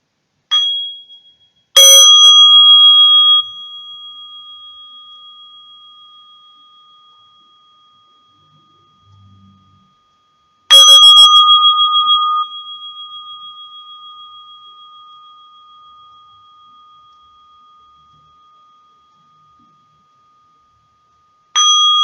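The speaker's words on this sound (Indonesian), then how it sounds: "Saya akan bunyikan bel banyak 3 kali." A meditation bell rings three times, each strike clear and bright with a long, slowly fading ring, widely spaced by several seconds of silence.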